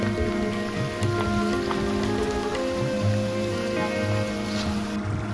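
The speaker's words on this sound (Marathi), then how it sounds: "पाऊस खूप जोराचा आलेला आहे" Dense, steady rain pours down on a trek near Tahuli Peak, with a constant hiss and patter over a low engine-like hum throughout.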